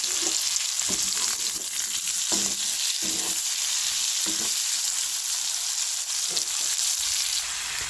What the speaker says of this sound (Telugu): ఇదే బౌల్లో మనం కొంచెం పచ్చిమిర్చి, ఆనియన్స్, క్యారెట్ వేసి బాగా ఫ్రై చేయాలండి